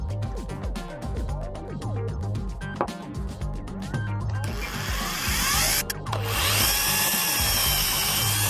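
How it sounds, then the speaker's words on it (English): A power drill bores through a wooden clamp part and a metal bar held together, its motor whining steadily and pitching up as the bit breaks through, loud and close, with a brief pause near the end. "I'm starting by drilling from the inside out."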